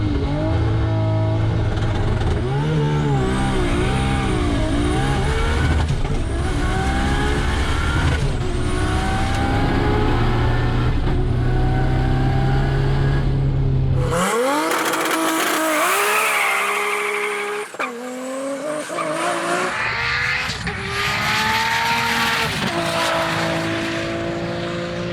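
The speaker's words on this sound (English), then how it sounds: "The quickest H-pattern True Street GT-R was once again Con Pili from Matux Racing in his R32." Nissan GT-R cars, including an R32, run hard on a runway with loud sustained engine roar that rises and falls through gears, a sharp change mid-way to a higher-pitched pass, and some tire squeal.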